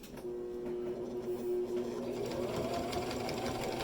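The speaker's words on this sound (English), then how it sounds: "So it will look kind of like I'm top stitching it in a way." Sewing machine top stitching fabric for a bag holder, a steady continuous mechanical whir with rapid needle clatter close by, running alone throughout without talk.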